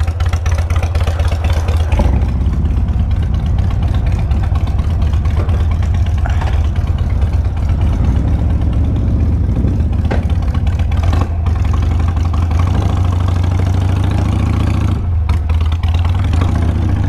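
A Harley-Davidson engine, with a custom Sportster and a 2024 Road Glide present, runs loud and close throughout, a steady rumbling idle with occasional swells like blips of the throttle.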